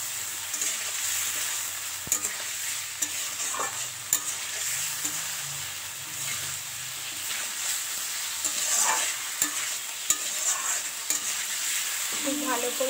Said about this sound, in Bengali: এবার এর মধ্যে দিয়ে দেবো ভেজে রাখা আলু আর ডিম, দিয়ে একটু কষিয়ে নেব।